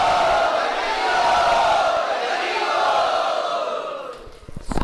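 A crowd of devotees at a Kartik yatra gathering chants loudly in unison, a sustained roaring vocal swell that holds for several seconds before fading and breaking off.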